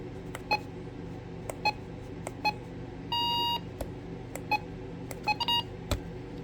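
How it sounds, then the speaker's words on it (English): Short electronic button beeps from a RadioShack 12-262 weather radio sound one at a time, irregularly spaced, with a brief sustained tone in the middle and a quick double beep near the end, over steady low hum. "button beeps are pretty nice"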